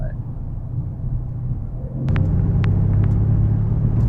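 A Mercedes-AMG C63 S rumbles steadily while driving on a road in Las Vegas, its low drone swelling louder partway through and holding at a constant throaty level.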